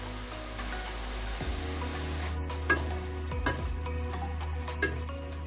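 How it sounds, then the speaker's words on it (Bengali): Vegetables fry in a pan with ginger paste, producing a continuous close sizzle along with a low rumble. Occasional stirring scrapes and clinks sound over the frying. "সবজিগুলো ভাজা হয়ে এসছে"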